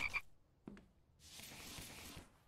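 A frog in the survival video game The Infected gives a few short, close croaks, then a broad hissing ambience rises behind it.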